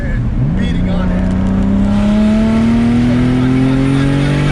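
A 500whp turbocharged M50 BMW E30 accelerates hard, its engine note climbing steadily in one long loud pull heard from inside the car, with a voice audible alongside.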